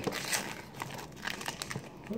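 A foil trading card pack wrapper torn open by hand, giving a run of crinkling and tearing bursts, close and moderately quiet.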